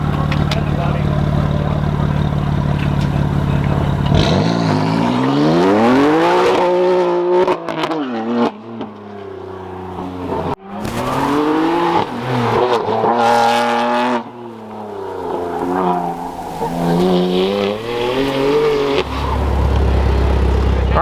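A race car on a dirt track runs hard, engine rising and falling through repeated revs and shifts, loud and close, with brief dropouts and talk heard over parts of the run.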